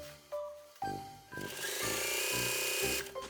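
A sewing machine starts with a couple of short bursts, then runs in a continuous whirring stitch, close and moderately loud, sewing around the waist of a lined long skirt.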